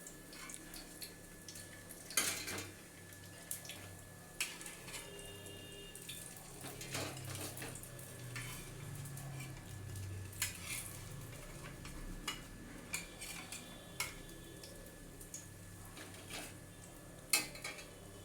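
Whole pointed gourds (potol), fried, are lifted one at a time out of a pan, giving scattered soft clinks and scrapes of a utensil against metal, quiet and close, with no talking.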